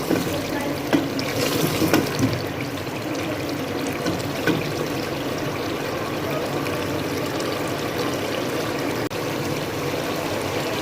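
Water poured from a tap or jug into a handi of browned mutton and round gourd (tinda gosht) curry, a steady continuous stream and splash, close and moderately loud throughout, no talk.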